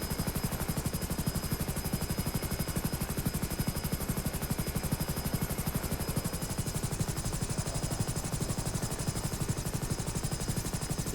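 Coast guard helicopter in the video game GTA 5, rotor blades chopping in a steady rapid pulse over a constant engine whine, loud and unbroken throughout.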